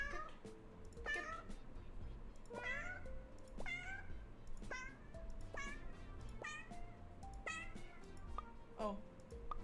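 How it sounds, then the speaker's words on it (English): Repeated short cat meows from a video game, about a dozen spaced every second or so over a steady low background hum, fairly clear and close. "Tiny cat. There's a cat there. There's a cat there. Cat."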